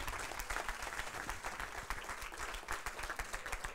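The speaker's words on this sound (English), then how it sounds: "can we have a huge round of applause for all 6 of our innovators" An indoor audience applauds innovators at a travel trade event, a steady dense wash of many hands clapping together for several seconds.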